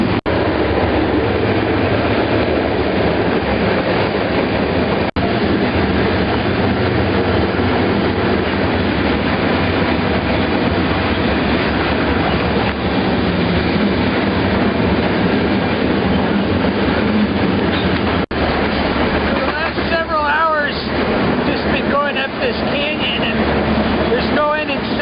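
A freight train rolling through Pittsburgh with a trainhopper riding aboard, a loud continuous rumble and clatter of wagons close by, with metallic wheel squeals near the end and a voice talking over it.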